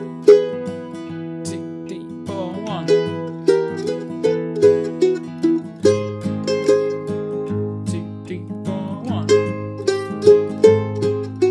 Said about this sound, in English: we're going to sort of do an advanced double stop arrangement of it, which will hopefully sound a bit like this.